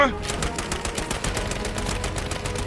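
Rapid bursts of automatic gunfire in Battlefield V crackle in a steady rattling stream, loud and close, with game-like sharpness and no speech over it.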